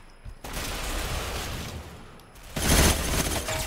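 Video game gunfire erupts in loud, dense bursts of rapid shots, a sustained volley followed by a sharper, heavier blast near the end, with no talk over it.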